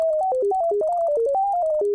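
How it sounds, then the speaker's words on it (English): Pure sine-wave tones from computer music software step through a quick run of pitches, each note held briefly in a loud, clean electronic sequence with no voices. "there's a 510 hertz sine wave"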